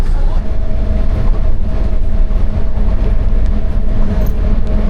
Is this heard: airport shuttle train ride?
yes